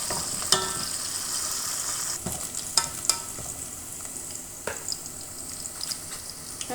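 Onions frying in oil in a pan, a close steady sizzle broken by several sharp clinks and scrapes of stirring, with no one speaking.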